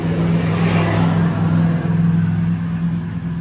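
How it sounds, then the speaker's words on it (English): Busy road traffic passing nearby, a loud continuous rumbling engine drone with a steady low hum, swelling slightly as vehicles go by. "the traffic's pretty crazy here today"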